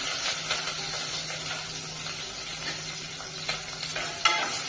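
Onions fry in hot oil with mustard seeds and curry leaves in a pan for egg sambar, a steady, close sizzling hiss throughout with occasional faint stirring scrapes.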